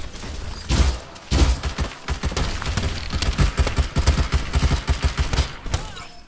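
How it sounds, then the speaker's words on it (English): Artillery strikes and gunfire in the Farlight 84 battle game form a dense, continuous barrage of loud booms and rapid shots that pound on without any pause. "Time for some artillery."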